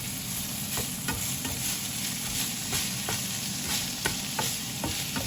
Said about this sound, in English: So we just got a little bit longer to go on the ground beef.